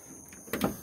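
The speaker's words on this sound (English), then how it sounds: "I did lubricate this hinge on this door earlier," The freshly lubricated door of a 1971 Chevrolet Monte Carlo SS closes with a short, soft, muffled thunk, brief and fairly quiet over a low background hiss.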